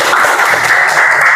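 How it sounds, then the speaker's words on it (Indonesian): A group of participants in an Indonesian classroom session claps together, a loud, close, steady patter of many hands across a brief burst. "Tepuk tangan dulu dong."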